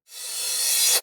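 Reverse cymbal sample from a 909 drum machine: a single bright, hissy swell that rises steadily in loudness for about a second and then cuts off abruptly.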